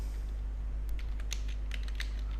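A few faint, sparse keyboard key clicks, typing a ping command, sit over a steady low electrical hum, with no talk.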